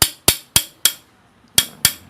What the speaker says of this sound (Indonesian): biasanya sobat mengetok ini ya dengan palu ya, diketok begini untuk mengeluarkan baling-baling karena macet